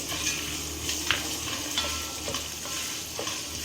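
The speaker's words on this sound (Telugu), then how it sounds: "అది బాగా ఫ్రై అయ్యి బాగా మంచి స్మెల్ వస్తుంది" Crushed garlic and nuts fry in coconut oil for a children's snack, a steady close hiss and sizzle with occasional light scrapes of stirring.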